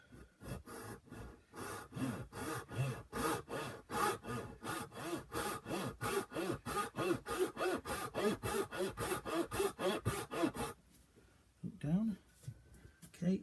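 Hand saw cutting wood for a lap joint, a rapid rhythmic series of rasping strokes, about two per second, close up, stopping near the end before a couple of final scrapes.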